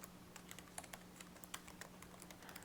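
Code is typed on a computer keyboard as a quiet, irregular run of close, crisp key clicks lasting a couple of seconds, with no talking.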